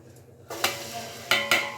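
Sliced onions and green chillies hit hot oil for a Hyderabadi biryani, giving a sudden sizzle after a quiet start, with a few sharp clinks of a utensil against the pan.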